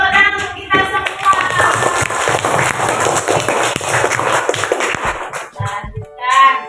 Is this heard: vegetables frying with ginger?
no